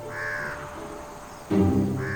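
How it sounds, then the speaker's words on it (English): Crows caw loudly and harshly while mobbing white-bellied sea eagles, with a steady run of calls and a sharper, louder burst near the end. "Crows will mob the eagles relentlessly."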